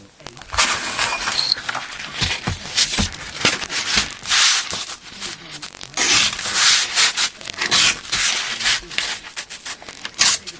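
Repeated close scratchy strokes of 600 grit sandpaper rubbing across guitar frets during a refret, an uneven back-and-forth rhythm that runs continuously.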